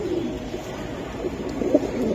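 Low, soft cooing of Giribaz pigeons at a pigeon seller's murmurs faintly beneath a steady background hum.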